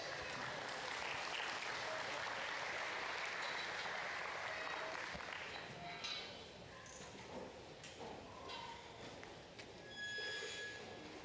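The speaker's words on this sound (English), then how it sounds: "Let's give them all a big round of applause." Audience applause fills the arena at a county fair and rodeo heifer show, steady for several seconds and then thinning into scattered claps, with faint crowd noise and a distant voice behind it.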